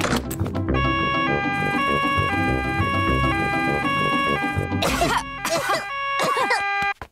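Several short cartoon coughs and throat clearing in Peppa Pig burst out over a tinkling chime melody, close and fairly loud, ending abruptly.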